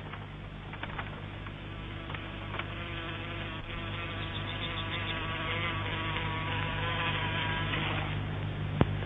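Continuous insect buzzing, several wings droning and wavering at once, close and steady over a low constant hum, with a brief click near the end.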